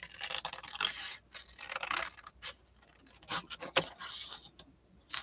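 Scissors cut around a paper envelope pocket for a flip journal in short, irregular bursts of close snipping and paper rustle, with brief pauses between strokes.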